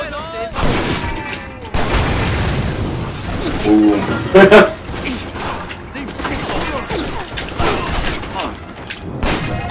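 Shotgun blasts in the action video game Stranglehold, several sharp booming shots scattered across the stretch with a cluster of loud hits near the middle, mixed with game effects while a player talks over them.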